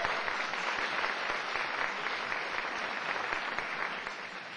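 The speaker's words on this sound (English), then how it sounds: "So, Michael Escalante, let's give him a big round of applause." Steady applause from an audience at a community meeting and poster contest event, a sustained wash of clapping held at an even, moderate distance that tapers slightly toward the end.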